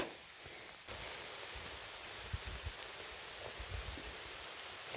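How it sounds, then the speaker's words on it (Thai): Steady rain falling outdoors during mushroom and blueberry picking, a dense hiss that thickens abruptly after the first second, with scattered low thumps of drops close by. "ฝนก็ตก"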